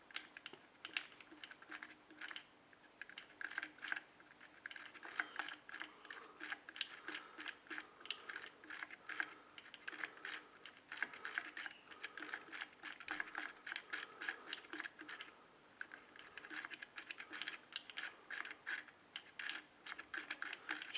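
The voicebox mechanism of a 1977 Palitoy Talking Batmobile toy runs quietly up close, a faint continuous stream of rapid small clicks and ratcheting gear ticks.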